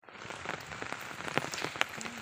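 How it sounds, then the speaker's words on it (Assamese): Heavy rain falls on the way to a school, a dense steady patter of drops with a few sharper splashes, close and continuous, with no speech. "বৰষুণ পূৰা টানকৈ দিছে দেখিছেনে"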